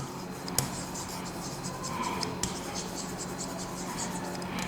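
Pen or pencil scratching on paper while a maths problem is written out, a steady close-up scribble with a few sharp taps, over a constant low hum.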